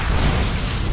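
A video game character blowing up after a point-blank squid cannon hit, a loud, dense low boom with broad rumbling noise that holds steady for about a second, with no talk over it.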